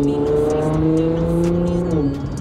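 A Nissan GT-R R35 engine hums loudly up close with a steady, slightly rising drone as the car pulls away, its pitch shifting near the end.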